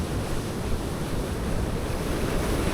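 Sea waves wash and break steadily against a rocky shore on an early-summer coast, forming a continuous close roar with wind buffeting the microphone.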